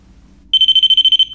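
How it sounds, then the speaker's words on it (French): Electronic detector used in a paranormal investigation going off, a sharp high-pitched beeping in quick regular pulses, close and clear over a quiet background, with no talking. "Ah, j'ai mon détecteur qui se déclenche."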